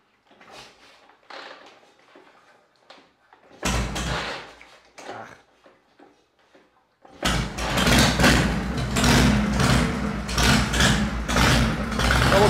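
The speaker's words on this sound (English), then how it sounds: "I love that Shovelhead idle." A 1978 Harley-Davidson Shovelhead chopper engine starts up and settles into a loud, steady idle that fills the second half. Quieter clanks and handling noises come before it.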